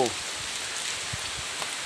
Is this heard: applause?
no